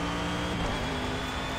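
Mercedes SLS GT3 engine revving hard under acceleration in the racing game Project CARS at Hockenheim, a loud continuous buzzing drone with rising pitch and no talk.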